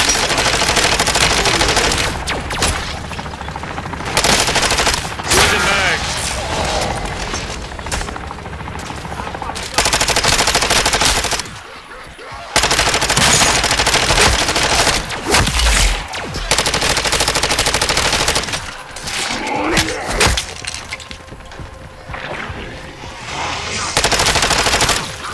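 Gunfire in the video game Call of Duty MW3 Zombies: loud, sustained automatic weapon bursts with only brief pauses, dense and close throughout the stretch of continuous combat.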